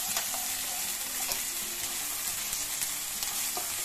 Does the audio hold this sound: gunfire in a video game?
no